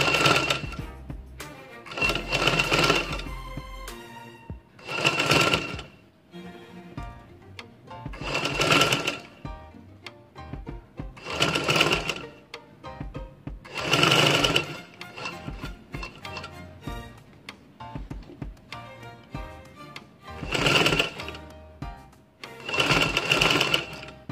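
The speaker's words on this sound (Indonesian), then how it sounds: "waktu penjahitan kita buka ya, pelan-pelan aja jahitnya sambil dibuka" A sewing machine stitching a zipper into a lining, running in repeated short bursts of rapid mechanical whirring and clatter separated by pauses, close and loud.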